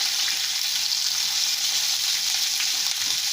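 Curry leaves, green chilli and chopped ginger fry in hot oil for sabudana tomato khichdi, giving a dense, even, close sizzle that holds steady without pause and has no voices over it.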